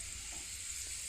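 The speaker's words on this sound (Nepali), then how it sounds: "मेथी दाना आधी चम्चा फुर्याउँदैछु सानो चम्चाले।" Fenugreek seeds sizzling and frying in hot mustard oil in a pan, with a steady, close hiss throughout and soft stirring scrapes.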